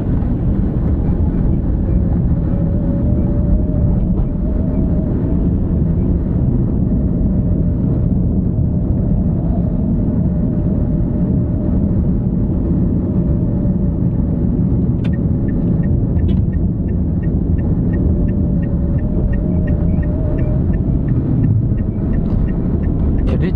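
Car engine climbing a slope while the driver shifts into second and then third gear, a steady loud low rumble of engine and road noise running throughout without pause.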